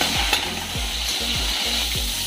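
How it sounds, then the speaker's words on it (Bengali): Shrimp fry in a pan with a steady, dense sizzle, broken by several rhythmic stirring strokes close up. "এবারে চিংড়ি মাছগুলো ভেজে নেবো।"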